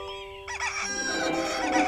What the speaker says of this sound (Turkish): Horoz ü-ür-ü diye öter.